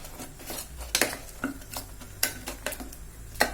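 A spoon scrapes and knocks inside a pot as mustard greens are stirred with maize flour for Punjabi sarson ka saag, giving a run of soft, close clinks and scrapes at an uneven pace.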